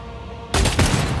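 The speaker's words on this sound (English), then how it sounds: "A shot from a needle pistol misses Heinrich's head by a thread" A needle pistol fires a single sharp shot in a Rogue Trader game scene, a sudden loud burst cutting through a quieter background and followed by a second crackling impact.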